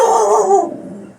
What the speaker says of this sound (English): That was my dog, BB.